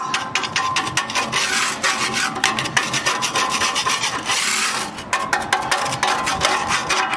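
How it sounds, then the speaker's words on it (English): Harsh, rapid metallic grinding and scraping of an angle grinder on a rusty 1958 Chevrolet Apache steel frame, steady and close, with short bursts and brief pauses throughout. "can just grind it with a Grinder"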